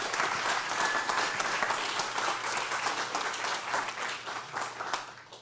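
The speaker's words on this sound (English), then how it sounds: "So give a big round of applause for Tim." Sustained applause from a small audience welcoming speaker Tim O'Reilly, a thick, even roar of clapping lasting several seconds and fading a little toward the end, without voices on top.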